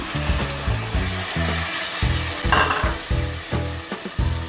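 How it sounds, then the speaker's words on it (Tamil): Loud, crackling sizzle of tamarind water poured into a hot pan of oily brinjal kuzhambu, with stirring scrapes and bubbling pulses, close up. "புளி கரைச்சி வச்சுருக்கிறேன் அதை கொஞ்சம் ஊற்றிக்கலாம்"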